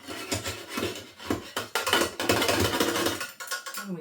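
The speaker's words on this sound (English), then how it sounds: "there's some still in the grater, so I'm just going to put that off with a knife" A knife scrapes lemon zest off a metal grater in a run of close, rasping strokes and light metallic taps, fairly quiet and with no voices, ending in a brief pause.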